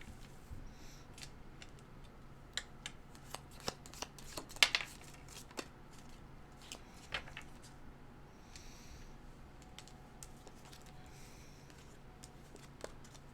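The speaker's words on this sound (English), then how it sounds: "Now, let me pull some tea cards to finish it off." Tarot tea cards are shuffled and drawn: faint, soft papery rustles and quick card flicks, with a slightly louder cluster of snaps midway, in a quiet room without speech.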